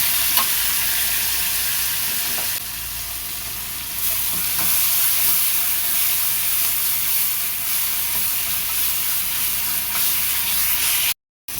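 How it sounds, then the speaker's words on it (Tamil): Ginger garlic paste and tomato sauté in a hot pan with a steady, loud sizzle and occasional scraping stirs throughout, without any talk. "திருப்பி வதக்கிக்கலாம். இஞ்சி பூண்டு பேஸ்ட்டு போட்டு ஒரு தக்காளி போட்டுக்கலாம்."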